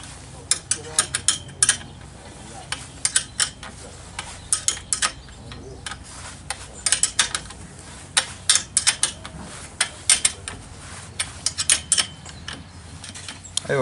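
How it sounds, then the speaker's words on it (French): Non-stop nuts are tightened onto a greenhouse frame pipe with a ratcheting tool, giving rapid irregular metallic clicks and ratchet bursts up close, coming in quick clusters with short pauses in between. "là je serre, pas trop pour pas déformer le tuyau"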